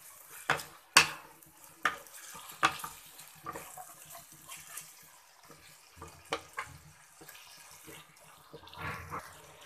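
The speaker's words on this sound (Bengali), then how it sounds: "আমি আলুগুলো দিয়ে দিলাম। খুব সুন্দরভাবে মশলার সাথে মিক্স করে নেব।" Potatoes stirred into cooked spices in a pan while making a small-fish chorchori, with scattered scraping and knocking clicks of a utensil against the pan, several sharper taps near the start, over a faint steady background.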